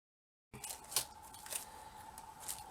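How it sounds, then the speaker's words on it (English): Scissors snip at a plastic package of beaded trim, a few crisp cuts and crinkles up close after a brief silence, with a faint steady hum underneath. "Let me just use my scissors to open it."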